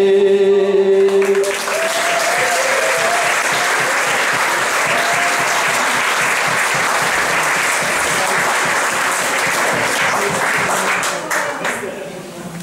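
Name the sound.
concert audience clapping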